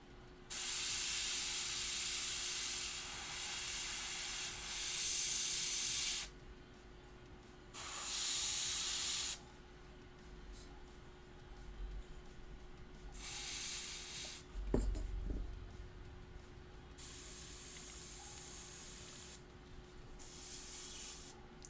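Airbrush spraying paint onto a World Eaters miniature, heard as several steady hissing bursts of a few seconds each, separated by pauses with a faint background hum and a single brief knock.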